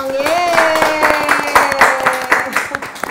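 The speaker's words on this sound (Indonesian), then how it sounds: "Tepuk tangan dulu dong." Audience clapping on an Indonesian talk show panel, scattered hand claps in an uneven rhythm under a cheerful sung or cheering voice that carries across the clip.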